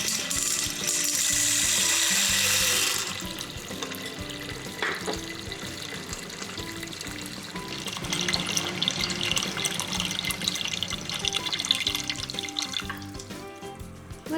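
Water pours into an Instant Pot holding garbanzo beans, a steady splashing stream that starts loud and then continues as a softer trickle, with no talking.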